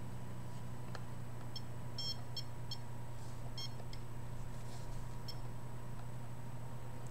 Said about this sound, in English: It's just being picked up when I aim the detector at spots